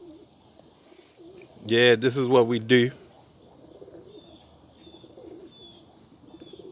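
Young pigeons from an East Baltimore loft coo in one close, throaty burst of a few pulsing notes, followed by faint softer coos and someone speaking briefly.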